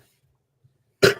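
A single loud, close cough bursts out at the end after near silence.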